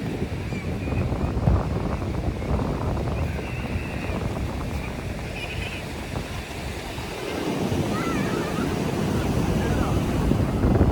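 Cool wind gusts across the microphone at Antarvedi beach, a rough, loud rush over the steady wash of surf. It swells again toward the end.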